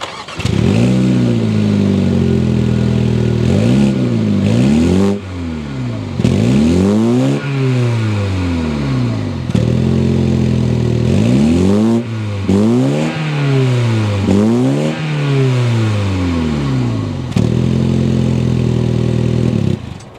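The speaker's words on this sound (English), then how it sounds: "start it up so you can hear that exhaust note" A 2023 Mini Cooper S with a twin-scroll turbocharged engine revs repeatedly, its exhaust rising and falling in a series of loud, close blips, alone with no talk.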